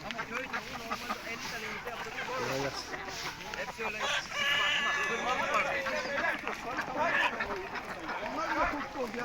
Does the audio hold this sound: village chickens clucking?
yes